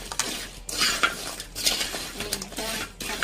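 Spatula mixing curry leaves and green chilli into fried masala idli in a pan, close scraping and clinking strokes in an uneven rhythm over a faint sizzle.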